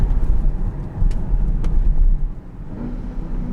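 A 680 hp Porsche Panamera Turbo S E-Hybrid with a PDK gearbox drives along, its low engine rumble heard from inside the cabin. A brief dip in the rumble suggests a quick gear change.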